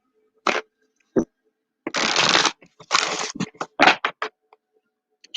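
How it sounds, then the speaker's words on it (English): A deck of tarot cards shuffled by hand in several separate bursts of riffling and sliding, close and fairly loud, with short pauses between handfuls and no talking. "Shuffle these cards up really well."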